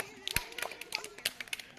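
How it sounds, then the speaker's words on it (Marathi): Children clap to welcome players after a balance game: scattered, uneven hand claps with a few sharper strikes, mixed with nearby voices. "टाळ्या वाजवून स्वागत करा यांचं."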